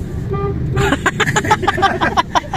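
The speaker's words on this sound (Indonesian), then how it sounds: "Makanya saya klaksonnya aneh kan bunyinya" A short series of electronic honks from a VinFast electric taxi's horn, bright and choppy, sounds close by with vehicle noise in the background.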